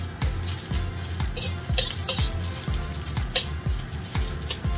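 A spatula scrapes and turns egg luncheon meat fried rice with ginger in a hot pan, rhythmic knocking strokes about twice a second over a constant sizzle.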